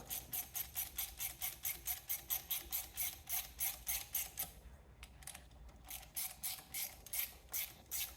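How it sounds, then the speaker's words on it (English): A socket ratchet clicks rapidly in steady bursts as a 10 mm bolt is snugged down during a HydrosPlus Turbo+ install on a John Deere compact tractor, close and distinct, pausing briefly midway before resuming. "This is a 10 millimeter. So we'll go ahead and tighten this up."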